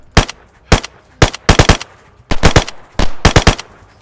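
Gunfire in the survival game DayZ, loud close bursts of rapid shots in short clusters of one to four, separated by brief pauses.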